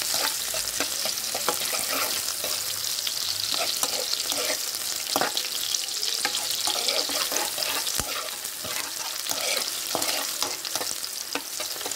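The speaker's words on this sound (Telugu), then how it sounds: "ఇది కొంచెం గోల్డెన్ బ్రౌన్ కలర్ వచ్చేదాకా వేయించుకోవాలి." Precooked rice sizzles steadily in a hot pan as it fries toward golden brown, with frequent scraping and stirring clicks of a spatula, close and continuous without speech.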